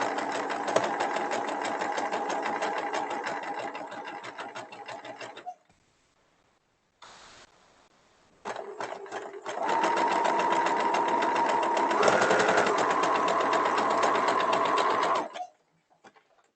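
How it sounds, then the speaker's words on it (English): A home sewing machine running a zigzag stitch around a fabric patch, fast mechanical whirring in two long runs separated by a short pause and a brief stop-start burst, steady and close with no talk. "keep doing that zigzag stitch all the way around."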